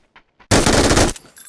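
A short, dense burst of automatic fire from a mounted machine gun in the battle royale game PUBG, loud and close, lasting about half a second after a couple of faint taps, then trailing off into quiet game ambience.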